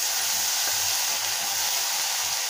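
Crushed turkey berries, chillies and curry leaves sautéing in a pan make a constant bright hiss, steady and fairly close, with faint low knocks underneath.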